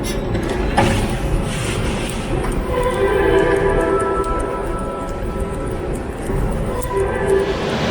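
Early-morning metro ride in nearly empty carriages, a continuous rumbling roar of the train with whining tonal hums rising and falling, steady and close throughout.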